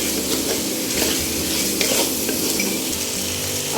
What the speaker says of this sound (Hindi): अब इसको अच्छे से गोश्त के साथ सारे मसालों की भुनाई कर लें।